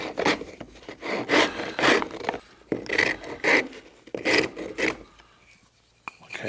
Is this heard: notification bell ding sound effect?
no